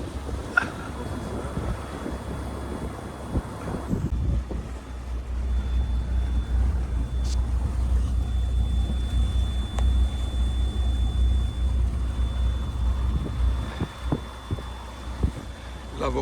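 Prestige 32 motor yacht engines running at 1,000 revs during a sea trial, a steady low rumble with wind noise over it, continuous and fairly close.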